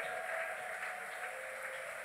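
A church congregation applauds through a worship service, a steady, dense wash of clapping that sounds fairly distant and fills the space without letup.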